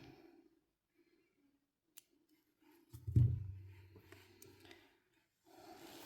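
Scissors snipping thread during beaded needle lace work, a faint close crunch and short rubbing scrape over a quiet room, with a small click beforehand.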